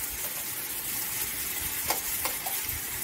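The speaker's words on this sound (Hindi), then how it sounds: "सभी को डाल के मिक्स कर लेंगे" Peas with yellow, green and red bell peppers stirred in a pan as a filling for cheese bread cutlets, a steady close scraping and soft sizzle with a few sharper clicks of the spoon near the end.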